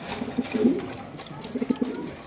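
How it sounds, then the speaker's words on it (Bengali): Black racer pigeons at a caged pigeon market give soft, low cooing calls in two short bursts over faint background noise. "ব্ল্যাক রেসার কবুতর মাশাআল্লাহ দেখতে পাচ্ছেন"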